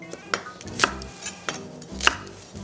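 A knife chops through a small onion on a cutting board, giving sharp, close knocks at an uneven pace, about six cuts with short pauses between them, and no one talking.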